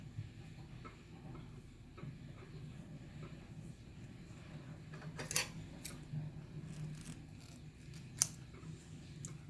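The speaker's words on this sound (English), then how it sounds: "Cut your extra yarn and you attach it." Scissors snip through extra crochet yarn, giving two or three faint, sharp cuts against a quiet room background.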